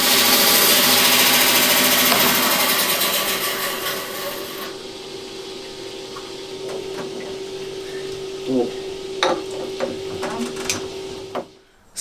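A saw slicing through a Mexican Laguna agate, a loud broadband grinding whine for the first few seconds that drops away, leaving a steady tone, scattered clicks and faint handling knocks before a final clatter.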